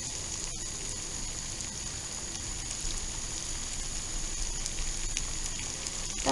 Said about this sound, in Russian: Она начинает уже скворчать.